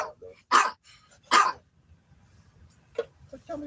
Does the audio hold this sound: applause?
no